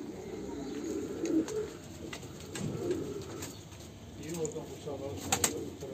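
Pigeons coo softly and repeatedly in a close, enclosed coop, with low murmuring calls overlapping and occasional faint flutters.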